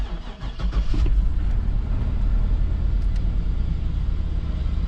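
A Chevrolet 2500 Suburban with engine fault codes cranks briefly and then fires up into a loud, steady, rumbling idle, close by, with no talking.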